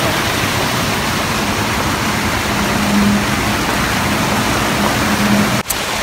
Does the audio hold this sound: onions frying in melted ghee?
no